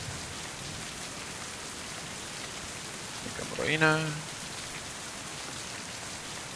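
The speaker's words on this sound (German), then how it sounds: "Es regnet" Steady rain falls in the video game Mind: Path to Thalamus, a constant hiss of drops on surfaces. Someone speaks briefly midway over it.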